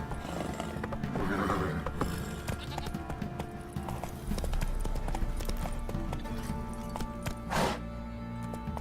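Horse hooves clip-clop at a steady trot in The Witcher 3, a continuous galloping patter under game music and ambience, with a brief whinny-like burst near the end.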